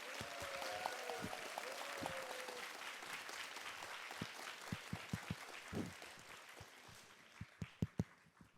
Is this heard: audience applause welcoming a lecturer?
yes